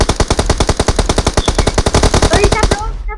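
Loud rapid automatic gunfire sprays in PUBG Mobile, a sustained burst of evenly spaced shots that stops near the end, followed by a brief faint voice.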